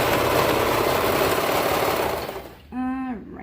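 A serger runs at a fast, steady whir while sewing a folded fabric waistband, then stops abruptly near the end.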